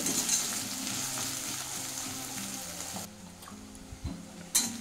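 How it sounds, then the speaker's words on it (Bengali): Two medium onions frying in oil for a pea and mushroom curry, a loud continuous sizzle with small ticks and stirring, the hiss dropping and softening partway through before a few sharp clatters. "পেঁয়াজটা ভালো করে ভেজে নেব।"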